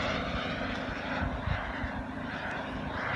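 A radio-controlled model aircraft engine at full throttle during a low pass, a steady buzzing drone holding at moderate loudness throughout.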